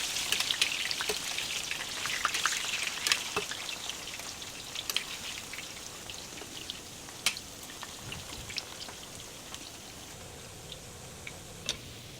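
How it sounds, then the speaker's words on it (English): Plantain frying in oil pops and crackles with scattered sharp spits over a soft steady sizzle, busier at first and thinning to occasional pops, with no voices. "Get some oil and fry your plantain."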